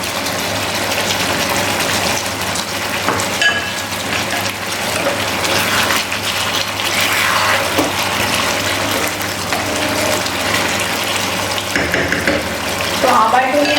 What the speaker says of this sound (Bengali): তো আমি এবার টমেটোটা দিয়ে দিচ্ছি